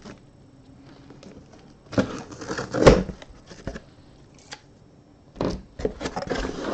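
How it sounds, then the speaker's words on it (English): Scissors cut open a plastic case of 2017-18 Panini Contenders Basketball trading cards, producing a few crisp snips and crackling plastic rustles close by, in short bursts with quiet gaps and no talking. "Do it the old-fashioned way with scissors."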